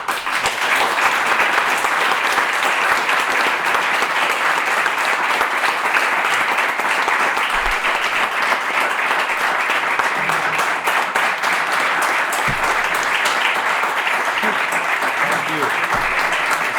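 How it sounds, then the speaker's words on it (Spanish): Sustained, loud audience applause at a panel on star comic writers in the American industry, a dense even roar of clapping lasting well over fifteen seconds with faint voices mixed in beneath it. "queríamos daros un aplauso"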